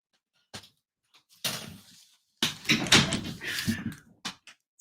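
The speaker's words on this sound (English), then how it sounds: "I need to close my office door." An office door is closed indoors, giving a cluster of close knocks, rattles and handle clicks. Several sharp bursts of contact noise are separated by short quiet gaps, with no talking.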